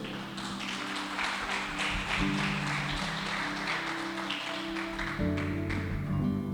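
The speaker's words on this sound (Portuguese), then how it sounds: "Dá um aplauso ao Senhor aí." A church congregation claps for the Lord during a sermon, the applause mixed with sustained music in the background at moderate volume.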